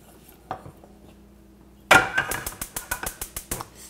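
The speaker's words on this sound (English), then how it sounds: "Stirring constantly." A roux being stirred in a pan on the stove, with a series of quick, fairly close scraping and tapping strokes repeating steadily after a brief quiet start, no voices.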